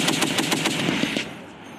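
Crew-served machine gun on a live-fire military range, firing a steady rapid burst of sharp, evenly spaced shots for about a second, then stopping abruptly and leaving faint outdoor ambience.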